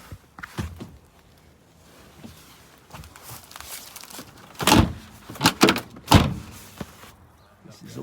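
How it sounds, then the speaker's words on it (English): A damaged door on a restored R107 Mercedes 280SL that has been stolen and dumped fails to latch, giving a few loud clunks and knocks between quieter rustles, with brief voices nearby. "That door's not closing."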